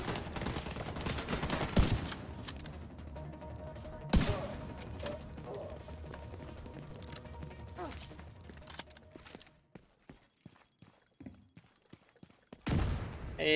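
Bursts of gunfire and sharp impacts in the online shooter The Division 2, loud at first, then scattered quieter shots and mechanical clatter with a final heavy blast, with some voice in the mix.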